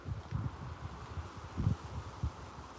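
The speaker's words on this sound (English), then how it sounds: "As you can see, it's pretty windy today." Outdoor wind on a blustery day buffets the microphone in low, uneven thumps and gusts over a constant airy hiss, with no one speaking.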